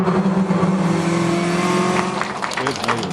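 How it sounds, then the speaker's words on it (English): WTCC touring race cars race past with loud, high engine whine and revving, a commentator talking over the close, continuous roar. "Then he passes Tarquini for second, under braking for the Parabolica with 2 laps to go."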